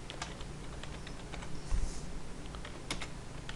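Light, scattered clicks of a computer keyboard as a book name is typed into a Word document, soft and close against a steady low hum.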